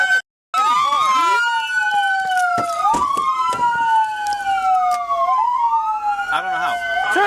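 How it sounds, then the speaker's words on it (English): Police car sirens wail loudly and close by, sweeping up and down in long repeating cycles during a tense armed standoff, with shouting voices heard over them. "Turn the sirens off!"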